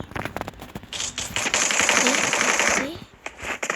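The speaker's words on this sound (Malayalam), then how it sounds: "എന്തൊരു വെടി വെച്ചാ" Rapid bursts of video game gunfire rattle through, with a dense automatic volley in the middle and scattered shots before and after.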